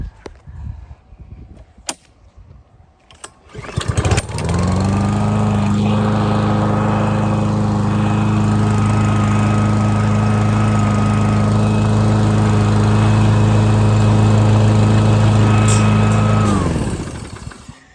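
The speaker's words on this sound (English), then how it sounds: "I've already got the aerating wheel on the lawnmower" After a few clicks and knocks, a lawnmower fitted with an aerating wheel starts and runs at a steady loud drone up close, then winds down and stops.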